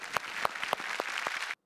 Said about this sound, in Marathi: प्रेम पॉयझन पंगा या मालिकेच्या टीमसाठी पुन्हा एकदा जोरदार टाळ्या